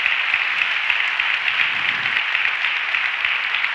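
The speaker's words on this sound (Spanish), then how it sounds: "Denle el aplauso al Señor si usted lo puede creer." A church congregation bursts into steady, sustained applause during a Spanish-language service, the clapping loud, dense and continuous throughout with no voices standing out.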